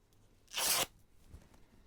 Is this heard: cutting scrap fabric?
yes